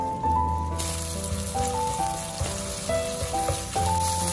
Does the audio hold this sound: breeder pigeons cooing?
no